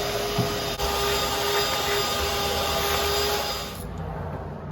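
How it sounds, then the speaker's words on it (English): A shop vac roars steadily at close range while cleaning out the engine bay of a 1973 Plymouth Satellite with its 318 LA V8 valve covers off, holding a constant whine before easing slightly near the end. "I'm gonna shop vac as much as I can here"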